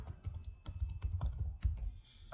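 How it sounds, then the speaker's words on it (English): Fast, continuous typing on a computer keyboard, with dense overlapping key taps, sounds close and moderately loud against a quiet room with no speech. "when I hit the keys to start typing"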